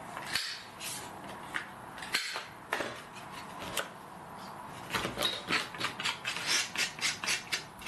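Scrapbooking paper has its edges rounded by hand with a sanding tool, producing close, scratchy rubbing strokes. They are irregular at first, then fall into a quick rhythmic series of rasps.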